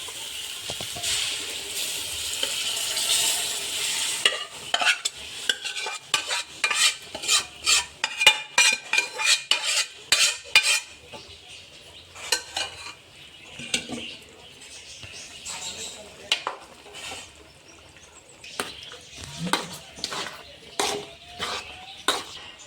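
Rice, vegetables and lentils going into a pot for bisi bele bath, first over a steady sizzle, then with a run of sharp spoon scrapes and clinks against the pot, close and fairly loud with no talking.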